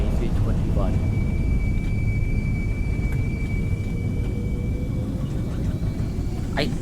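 Airbus A320 with IAE engines in a flight simulator, a steady loud jet roar and low rumble with a thin sustained whine running throughout, no talking.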